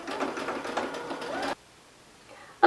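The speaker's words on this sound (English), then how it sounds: "I'm just going to line that up on my machine and then stitch that seam." A sewing machine stitches a side seam on ruffled baby bloomers, running steadily and close for about a second and a half, then it stops and goes quiet before a short loud bump at the end.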